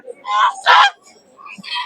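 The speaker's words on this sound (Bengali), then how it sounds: "এই দেখেন অনেক বড় বড় সাইজের রাজা হাঁস উঠেছে" Large raja ducks at a village poultry market give a few loud, close honking calls in short bursts, with gaps of quiet between them.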